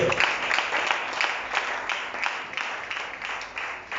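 A church congregation claps and applauds the Lord, giving a steady, fairly loud wash of hand claps from a crowd with no clear voices on top.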